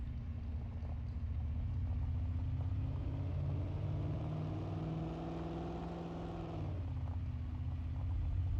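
A farm vehicle's engine rumbles steadily and close while being driven, with a slight rise in pitch and then a drop as it changes speed, loud and continuous with no talking.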